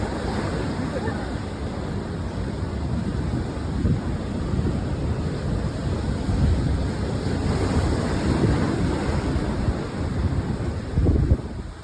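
A freak ocean wave surges inland across a busy beach in Brazil, a continuous loud roar of churning surf mixed with wind buffeting the microphone, swelling slightly toward the end.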